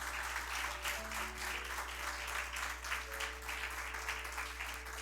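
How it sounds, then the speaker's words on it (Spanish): A church congregation applauds for Christ during a sermon, with dense, continuous clapping from many people filling the room under a low steady hum, with faint sustained tones in the background. "Por darle un aplauso a Cristo entonces"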